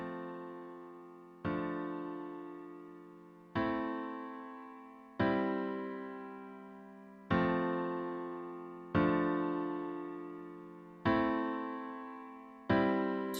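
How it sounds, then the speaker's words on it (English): Steinway grand piano chords struck one after another at a slow, even pace, each ringing out and fading before the next, about seven in all, with no other sound. "we started off with a Steinway grand piano playing some chords"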